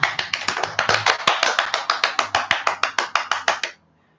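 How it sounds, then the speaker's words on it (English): A single person clapping on a video call during a virtual coffee meetup, about twenty crisp, close claps in a fast, steady rhythm that stop abruptly, leaving near silence. "Round of applause."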